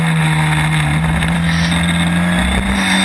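Historic Formula Ford race cars racing at Thruxton in 2015, heard as a loud, sustained engine roar with a steady droning pitch that rises slightly, close by and unbroken.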